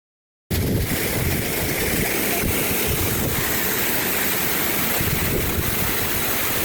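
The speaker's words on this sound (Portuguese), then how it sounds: "a gente chega nessa cachoeira maravilhosa" Véu da Noiva waterfall inside a park, a steady, loud roar of falling water that fills the clip from start to finish with no pauses and no voices.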